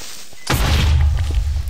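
A big, deep explosion from an alien creeper in Minecraft with the Hexxit mod bursts in suddenly after a quiet moment and rumbles on, loud and close.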